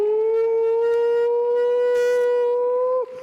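A loud civil-defense style siren wails on one sustained, slowly rising tone for about three seconds, then drops off abruptly at the end.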